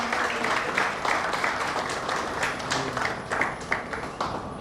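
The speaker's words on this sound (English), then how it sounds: "So give a good round of applause for the Imami City Council members everyone." Audience applause at a corporate cricket league player auction, a dense, steady burst of clapping with distinct individual claps standing out, moderately quiet and unbroken for several seconds.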